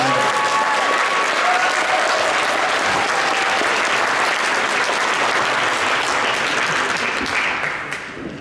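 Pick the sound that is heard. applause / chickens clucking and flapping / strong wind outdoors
applause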